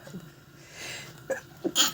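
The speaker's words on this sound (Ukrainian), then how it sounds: "Ого, що це на мене напало, щось я чихаю." A woman sneezes while cooking at home, a short burst then a sharper, louder sneeze close to the mic over quiet kitchen background.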